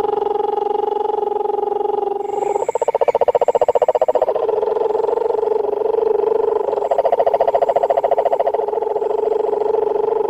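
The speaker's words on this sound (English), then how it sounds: "You can hear now a noise probably in the background, which is a toad," A toad calls steadily in the background, probably a mating call, with a continuous buzzing trill that swells louder midway and keeps going throughout with no voices.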